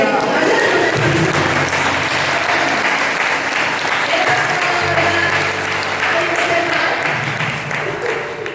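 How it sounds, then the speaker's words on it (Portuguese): A church congregation gives a loud, sustained round of applause for Jesus, dense clapping from many people close by, with faint voices mixed in beneath the clapping. "Dá um salve de palmas para Jesus."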